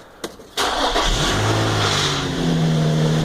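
A 2003 Infiniti G35 sedan cranks briefly with a click, then fires and settles into a loud, steady idle close by, the revs easing slightly as it runs.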